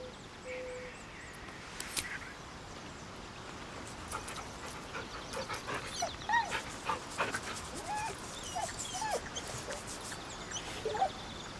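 A dog in the game Baldur's Gate 3 whimpers and yips in short, scattered bursts over soft ambient background, with panting-like breaths and a few sharper yelps spread across the stretch.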